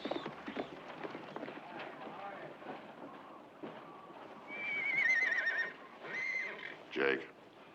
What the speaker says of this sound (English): keep those horses quiet